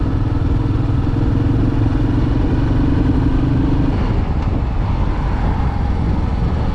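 A motorcycle rides along a country road past woods and a firewood seller, its engine a steady close drone with broadband road and wind roar throughout, the low engine note easing after a few seconds.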